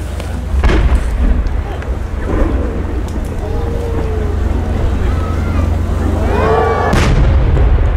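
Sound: No. 10 chrysanthemum firework shell bursting

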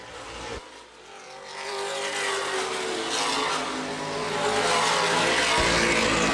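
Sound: NAPA late model race cars racing at Baer Field Speedway

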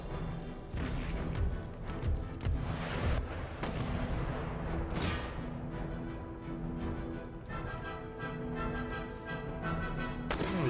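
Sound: artillery fire in Empire Total War video game

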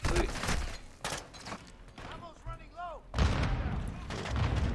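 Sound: grenade explosions in video game Call of Duty MW2

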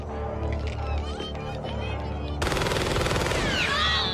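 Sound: gunshots in the movie The Terminator

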